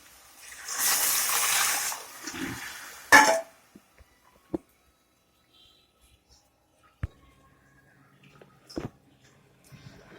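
Water gushes in a strong pour into a cooking pot for about two seconds while making wheat kichadi, then stops, followed by a few scattered clinks and light knocks in a quiet room.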